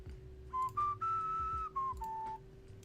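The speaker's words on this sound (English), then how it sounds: "I don't know why I'm whistling into a microphone." A person whistles a short, clear tune into a microphone, a string of sustained notes and quick slides, with faint background music underneath.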